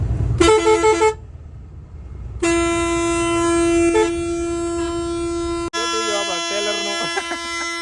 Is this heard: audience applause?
no